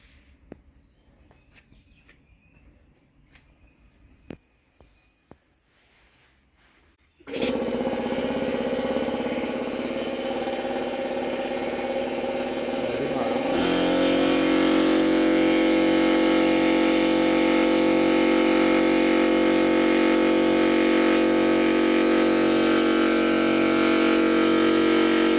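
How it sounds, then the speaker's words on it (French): An air compressor powered by a Fossibot F3600 Pro battery kicks on abruptly after a quiet stretch, then runs with a loud, steady motor drone that settles into a heavier hum. "On va allumer le compresseur."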